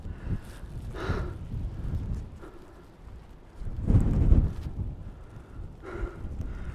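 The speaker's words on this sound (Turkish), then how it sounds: "Yani çok acayip bir rüzgar var" Strong gusts of wind buffet the microphone in uneven waves on Table Mountain's summit near a cliff edge in South Africa, with low rumbling surges rising and falling and no speech.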